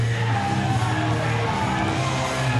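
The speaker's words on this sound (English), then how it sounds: "Interrupted by the Briscoes before I can say anything and by the volume of this crowd." A loud Ring of Honor wrestling crowd yells and cheers during a tag team match, a dense, continuous wall of shouting voices at steady volume throughout.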